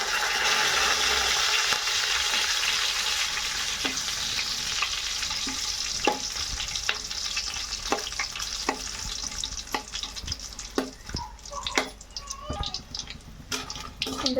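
Cashews and spices frying in a pan for bisi bele bath give a steady sizzle that fades over time, with scattered clicks and taps of stirring growing more distinct toward the end.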